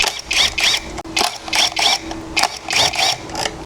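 Impact wrench removing the crankcase bolts on a Honda ADV 160 scooter, firing in short rattling bursts of about half a second each, repeated several times close by with brief gaps between them.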